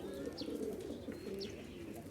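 Bursa oynar pigeons cooing in a low, continuous warble, with a couple of brief higher chirps over the steady murmur; close and fairly quiet, with no talk.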